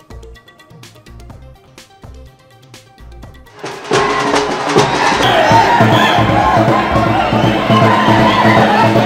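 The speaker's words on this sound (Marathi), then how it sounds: "मराठा आंदोलकांची सीएसएमटी स्थानकावर मोठी गर्दी" A large crowd of Maratha protesters at Mumbai's CSMT railway station; quieter scattered sounds give way midway to a loud, dense roar of many voices and movement that carries on to the end.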